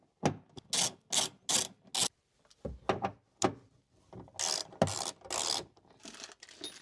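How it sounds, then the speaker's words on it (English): Factory screws on a Grenadier being undone with a Torx 45 bit, a series of close, sharp ratcheting and metallic clicks in short bursts with brief pauses between them, no talk. "we can go ahead and undo the two screws from the factory."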